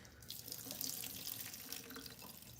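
Tap water runs steadily over a carrot being rinsed at a kitchen sink, a soft continuous splash close by with no talking.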